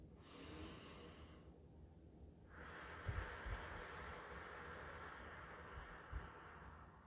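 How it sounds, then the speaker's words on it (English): One slow, audible inhale and exhale from a breathing exercise, soft and airy against a hissing background, with brief nasal puffs partway through and no talking. "I'm going to show you the inhale and the exhale"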